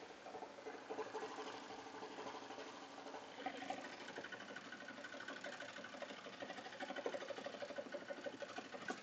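A Melco embroidery machine stitching lettering onto the side of a hat, a rapid continuous mechanical chatter running steadily throughout, faint and even with no voices.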